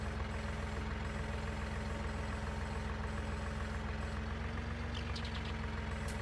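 A Case tractor idles in Farming Simulator 19, holding a trailer in place, with a steady, even engine drone and a low rumbling hum that runs throughout and never changes.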